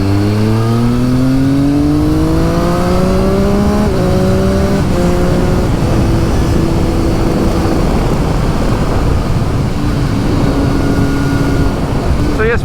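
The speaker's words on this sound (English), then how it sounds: "It's got a real deep rumble to it, whereas the aquapobic pipe's got a higher pitched rasp to it." A 2023–2024 Triumph Street Triple 765RS motorcycle revs loud and close through its exhaust, rising in pitch and then holding a steady, deep rumble with rasp. It runs throughout with no pauses.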